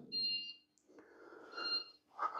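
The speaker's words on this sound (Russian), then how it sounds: "пожарка, обратите внимание, как пищит" A fire alarm beeps in an apartment building corridor, faint high-pitched tones chirping intermittently over low hum and footsteps, distant and thin against the hallway's background noise.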